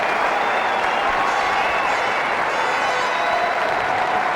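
Cricket crowd at a Test match in Auckland applauding a rapid fifty, steady dense clapping and murmuring cheers sustained throughout at close, loud level.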